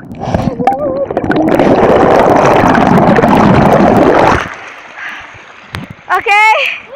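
A phone in a waterproof case pushed into a waterfall, giving a loud, steady underwater roar and rush for several seconds that cuts off abruptly as the phone comes out, followed by quieter splashes and a voice.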